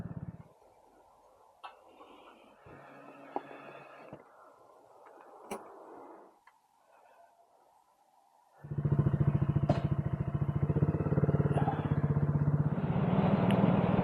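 A motorcycle on the A38 through Cornwall on a hot day. A quiet, rumbling stretch gives way to a loud, close, steady engine drone that holds to the end.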